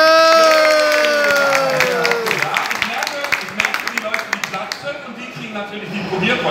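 A live cooking-show audience breaks into loud clapping and cheering for the host, a dense burst of claps and shouts following a voice, then tapering off.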